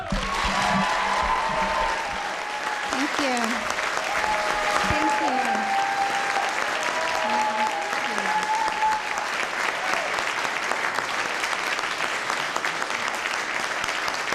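A large political rally crowd applauds and cheers for the wife of Senator Rand Paul in a steady, dense wash of clapping that holds throughout, with a voice speaking briefly over it.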